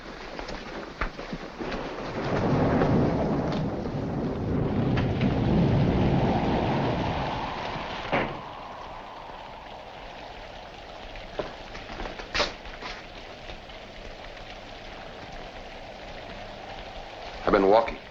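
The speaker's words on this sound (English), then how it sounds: "In this rain? Yes, in this rain." Heavy rain hisses steadily while thunder rolls in a long swelling rumble, then fades to a softer patter with a few sharp crackles and drips.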